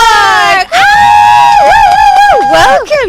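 A studio audience cheers and shrieks to welcome a K-pop singer onto a Korean English-language radio show. The sound is a loud, continuous wave of high, excited voices that briefly dips, then swells again.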